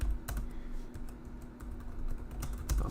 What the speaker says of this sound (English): I use a bracket, space bar. I'll go inside using the arrow keys, and I press enter 2 times.